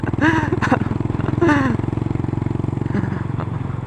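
A Kawasaki SR 400 motorcycle engine chugs loudly and labors up close on an uphill turn, its pulsing drone steady throughout, with brief voices speaking over it.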